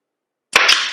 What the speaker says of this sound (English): I'm going to shoot a brad here and shoot a brad here.